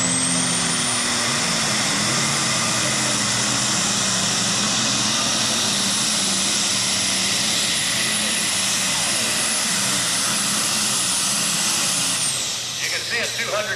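Superstock Diesel tractor at a truck and tractor pull, its engine roaring at full power with a high turbo whine, loud and sustained before dropping off near the end.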